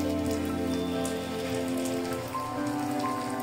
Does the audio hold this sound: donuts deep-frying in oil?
yes